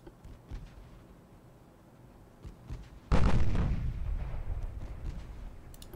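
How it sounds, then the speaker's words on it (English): Naval gunfire from destroyers' 3-inch guns in Ultimate Admiral Dreadnoughts, faint distant thuds at first, then one loud booming blast that rolls on with rumbling echoes. "Destroyers with their 3-inch guns starting to get involved with the transports."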